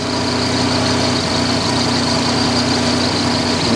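A 1987 Buick Grand National engine idles smoothly, a loud, steady close-up drone with a low throbbing hum that holds unchanged with no talk.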